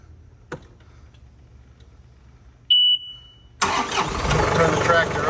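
A John Deere 3039R compact tractor fitted with a 300R loader: a click, then a steady electronic beep, then the engine cranks and catches into a loud, rough, continuous running roar close by.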